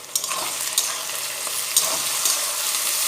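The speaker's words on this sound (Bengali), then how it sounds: "একটু ভালো করে ভেজে নেব।" Ginger, garlic and green chilli paste frying and being stirred in a pan for a chicken masala curry, a steady soft sizzle with light scraping stirs, close and alone without any talk.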